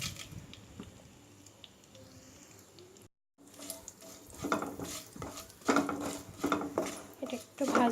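Bay leaf, cinnamon, cardamom, clove and a little sugar fry in a pan, giving a quiet sizzle, then a short silence followed by louder stirring scrapes and clinks at close range.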